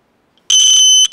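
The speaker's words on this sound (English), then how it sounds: "I'll just show you what the buzzer sounds like here." A small electronic buzzer powered by a 9-volt battery sounds a loud, shrill steady tone for about a third of a second, pauses briefly, then starts again close up in a quiet room.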